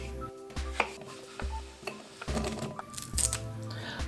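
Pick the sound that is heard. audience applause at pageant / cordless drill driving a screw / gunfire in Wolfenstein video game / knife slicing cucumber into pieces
knife slicing cucumber into pieces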